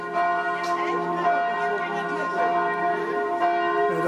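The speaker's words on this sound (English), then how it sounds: "It's bound to go into the other bells now" Church bells ring steadily in a town square, overlapping peals with a rich sustained hum, loud and continuous without pause, no voices over them.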